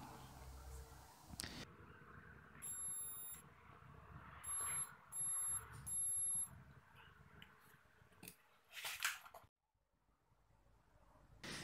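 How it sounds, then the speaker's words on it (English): Multimeter continuity tester sounds a series of short, high electronic beeps while checking a connection on a homemade powder coating gun, with several separate tones over a quiet background and some handling noise. "I verify if there is a good electrical connection between the high voltage output and the electrode using a multimeter continuity tester"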